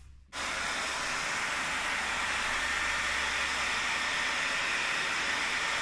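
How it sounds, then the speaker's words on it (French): Two hair dryers switched on together to make wind, starting abruptly after a brief quiet moment and then blowing a steady, loud, broadband rush of air alone to the end. "Pour faire le vent, je vais prendre 2 sèche-cheveux."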